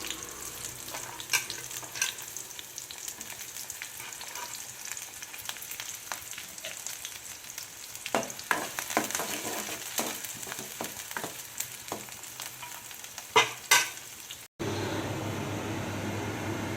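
Onions and green chillies fry in oil for boti fry, a soft steady sizzle with scattered stirring clicks and scrapes, then a brief clatter before a constant hum takes over near the end.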